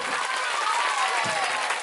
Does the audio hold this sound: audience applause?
yes